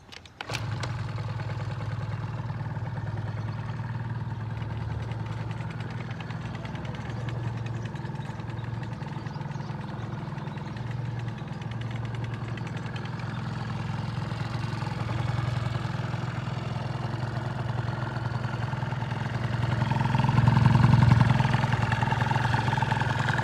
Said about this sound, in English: The engine is in good condition as it turns on straight away.